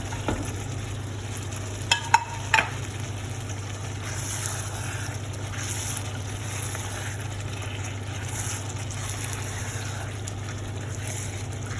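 Eggs frying in a pan for a Bengali egg curry: a steady, close sizzle with a constant low hum underneath and a few brief clinks of utensil against the pan early on.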